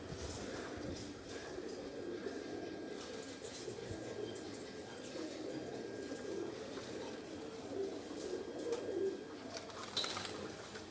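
Domestic breeder pigeons coo softly and repeatedly in a noisy rooftop setting in Suhar, Oman, with low rumbling background and faint distant sounds.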